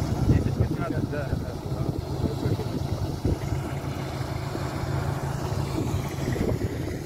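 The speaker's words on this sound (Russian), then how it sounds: "Сейчас дует прекрасный ветер" Wind blows steadily outdoors over winter ice in a low rumbling rush, with faint muffled movement beneath it.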